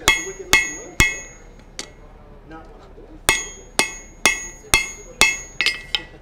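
Sharp, ringing hammer blows fall on hot steel as a blacksmith forges a hammer eye drift, about a dozen strikes in uneven bursts with bright metallic ring and quiet gaps between, close and loud.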